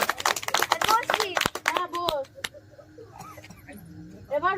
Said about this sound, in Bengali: সবাই হাত তালি দে